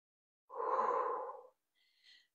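Heavy post-workout breathing as it slows down: one long, breathy exhale lasting about a second, then a short, softer breath after a pause. It is close and quiet, with no talking.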